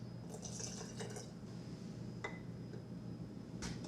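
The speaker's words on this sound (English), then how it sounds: "you're gonna feed the flour equal parts of flour and water" Water poured into flour to feed a sourdough starter, a light trickling and dripping of liquid into a container, steady and close, with a brief splash partway through and no talking.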